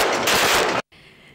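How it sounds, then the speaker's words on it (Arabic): Celebratory gunfire at a bachelor party in Batghrine, Lebanon: a dense, loud burst of rapid shots lasting under a second, cut off sharply, followed by a fainter continuing rumble. "أطلق المدعو جيم صاد الرصاص ابتهاجا لحضور أحد الفنانين حفلة توديع عزوبية"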